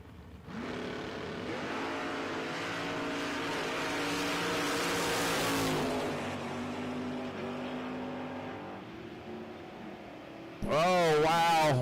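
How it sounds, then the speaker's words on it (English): No-prep drag race cars, among them a Camaro and a pickup, roar down the Kil-Kare Dragway strip in one long loud engine blast that builds and then fades. A sharp, loud burst of revving comes right at the end. "What a great drag race."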